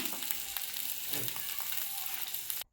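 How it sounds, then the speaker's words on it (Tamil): Parotta flatbread sizzles steadily on a hot griddle stone, a close, even crackle that stops abruptly at the end. "கல் மேலே அழகாக போட்டு விட்டுறலாம் ரெண்டு பக்கமும் திருப்பி விட்டு நல்லா வேக வச்சுக்கலாம்"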